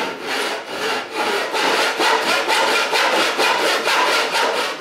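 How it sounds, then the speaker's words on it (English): A Western back saw cutting through wood in steady, rhythmic back-and-forth strokes, close and loud, with no talking. "How far do you push the saw through on every stroke?"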